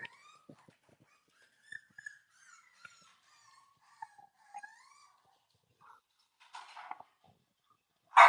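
Cavalier King Charles puppies give soft, scattered whimpers and high yips at close range, with brief pauses between calls and a louder burst of rustling near the end.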